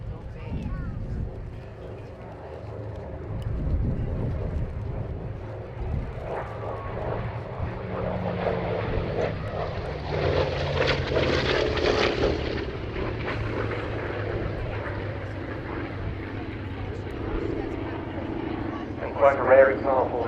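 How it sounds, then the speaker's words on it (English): A Hawker Fury prototype with its original Bristol Centaurus piston engine flies at an airshow at Duxford, its propeller drone swelling and fading at a distance while someone speaks over it throughout. "still being powered by the type's original Bristol Centaurus engine"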